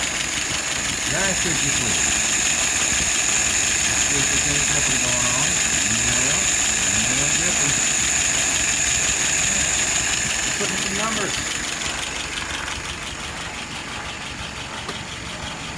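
A car engine turns over and settles into a steady low idle near the listener, running continuously under a voice, with a brief rev-like swell partway through.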